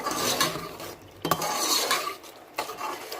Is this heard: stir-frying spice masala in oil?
yes